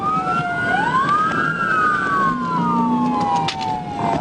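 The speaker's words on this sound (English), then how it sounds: "Yeah, I hear sirens." A police siren wails loudly and close by during an Arkansas State Police pursuit, its tone sweeping up and down with a second siren layered beneath, over steady engine rumble.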